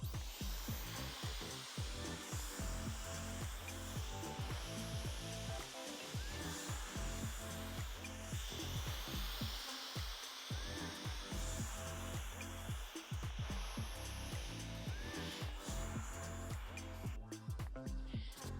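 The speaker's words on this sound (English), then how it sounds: "you wanna make sure that you're blow drying straight up once you get to the top of your head" A hair dryer blows fine hair straight up at the crown, a continuous nearby whir that wavers as the airflow shifts, with brief dips and a faint voice now and then.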